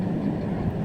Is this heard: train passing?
yes